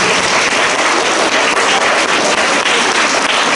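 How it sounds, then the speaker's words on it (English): A school assembly audience claps for five pupils, a loud, dense burst of many hands applauding close by, steady and unbroken throughout. "can you give a big round of applause to the five?"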